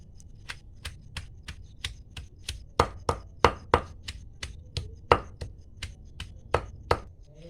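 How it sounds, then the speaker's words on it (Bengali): Spinach ground by hand on a traditional stone grinding slab, giving a steady series of sharp scraping knocks roughly every third of a second, close and fairly loud, with no voices. "আমি শিলে বাটছি, আপনারা চাইলে মিক্সচার মেশিনেও বেটে নিতে পারেন।"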